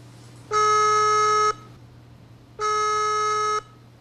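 A call-centre hotline plays two identical electronic phone tones, each about one second long, separated by a short pause, clear and steady over a faint background hum.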